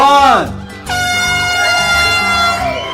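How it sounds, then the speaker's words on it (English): A loud, harmonic air horn blast sounds at a ribbon cutting after a countdown, briefly drops, then sustains for a couple of seconds, with a crowd's voices faintly beneath it. "Wait for the air horn."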